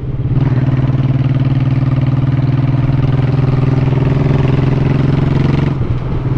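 A BMW motorcycle engine running close by in traffic, a steady loud low throbbing rumble with a constant even pulse that holds for several seconds before dropping off near the end.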